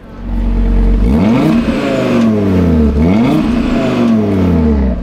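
CUPRA Formentor VZ5 SUV with its five-cylinder turbo engine revved twice while stationary, each blip rising sharply and falling away, loud and close, with no speech over it.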